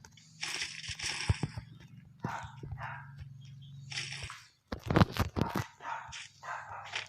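A dog barks in the background during a Free Fire mobile game session, giving several sharp, loud barks in bursts separated by short pauses, with no talk over them.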